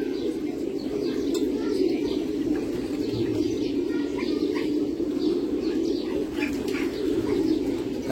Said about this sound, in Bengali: আপনারা যেগুলো দেখতেছেন খুব ডাকতেছে, এগুলো কিন্তু সব মাদি